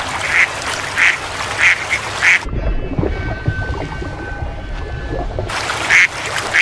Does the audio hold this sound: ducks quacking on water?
yes